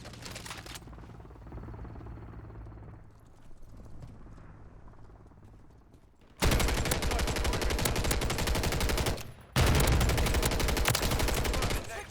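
Gunfire from a DG-58 LSW light support weapon in the video game Modern Warfare 3 during a Hardpoint-style match, loud sustained bursts after a quieter ambient stretch, with a brief pause before firing resumes.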